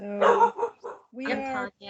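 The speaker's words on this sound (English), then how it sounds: "we apologize for the dog" A dog barks and yips in short bursts close to the microphone, overlapping with people talking during an online parent information meeting.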